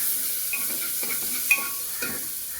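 Garlic-ginger paste sizzles softly in hot oil inside a pressure cooker, with a steady hiss and a few light clinks and scrapes as it is stirred.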